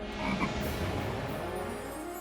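A frog croaks in a rapid, continuous run of low rasping pulses, close and moderately loud with nothing else heard over it.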